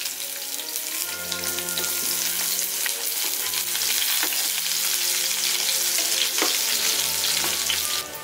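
Finely chopped onions fry in about two tablespoons of oil in a pan, with a dense, steady crackling sizzle and occasional stirring scrapes throughout.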